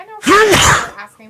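A sneeze bursts out loudly at close range, a single sharp explosive breath, with brief talk just before and after it.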